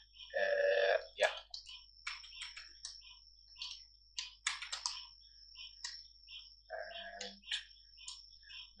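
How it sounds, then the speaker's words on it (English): Keys on a computer keyboard clatter in irregular bursts of quick clicks, fairly close and clear, with brief pauses between strokes while someone types names into Python code; no one talks. "I'm just typing some names of my friends"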